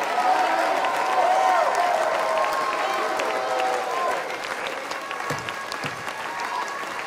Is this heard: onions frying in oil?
no